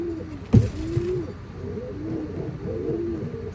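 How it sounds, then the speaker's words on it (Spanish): A pigeon, a female ash-grey white-winged dove with a leg ring, coos softly in a steady rhythm of low rounded notes close by after a brief knock. "Ahí viene la paloma."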